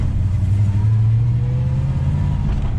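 An LS1-engined Nissan GU Patrol driving along, its V8 engine droning steadily with a low, rising rev, close and loud with no talk.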